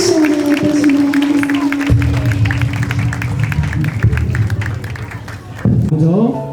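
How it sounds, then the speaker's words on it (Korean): Wedding guests in a wedding hall clap and cheer after a song, the applause steady and fairly close while a host talks over it. "다시 한번 큰 박수 부탁드립니다"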